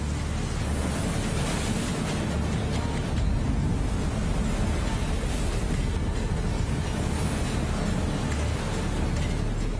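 Constant, roaring wind at sea at night fills the whole stretch, broad and unbroken like gusts sweeping over open water.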